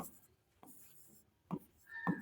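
Chalk or pen on a classroom board during a maths lesson, a few short scratchy strokes at irregular moments, soft and close, with quiet room noise between.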